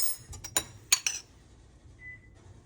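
A metal spoon clinks sharply a few times against a dish or can while scooping flaked canned tuna, a handful of bright close taps followed by quiet, with no talking.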